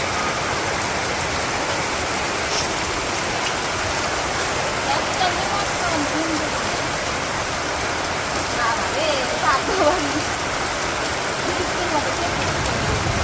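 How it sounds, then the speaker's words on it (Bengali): Steady morning rain hisses continuously over a wide band, even and moderately loud throughout, heard from inside or near a bus with faint background activity but no clear talk. "এই যে বাসে সকালবেলায় বৃষ্টি নেমে গেছে"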